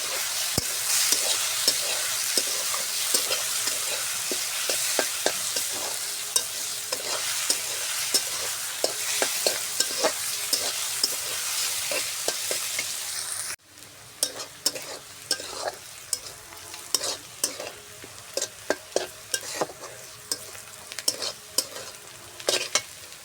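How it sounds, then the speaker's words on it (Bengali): Bay leaves and whole spices, including pepper, sizzle and crackle in hot oil in a pan, a dense steady frying hiss with frequent sharp pops, loud and close throughout, dropping slightly quieter partway through. "ওই তেলের মধ্যে তেজপাতা, দুটো ফল, নাকফল, গোলমরিচের ফল দিয়ে দিলাম"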